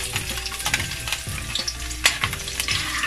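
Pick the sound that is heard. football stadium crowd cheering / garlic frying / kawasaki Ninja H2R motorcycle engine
garlic frying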